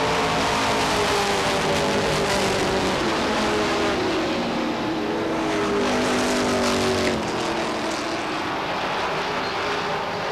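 A pack of stock cars roars around an oval track at Beech Ridge Motor Speedway in 1992, loud continuous engine drone with pitches sweeping as cars pass.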